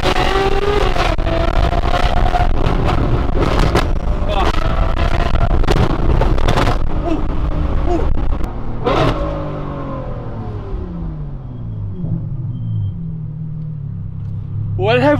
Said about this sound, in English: This is the loudest exhaust I have ever heard.